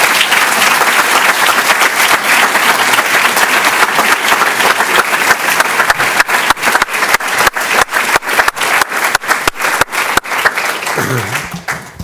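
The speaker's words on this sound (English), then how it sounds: "I'm just going to invite you for one more round of applause for Rimona" Audience applause closes a university neurology inaugural lecture: dense, sustained clapping from a large hall that grows more scattered and individual toward the end before fading out.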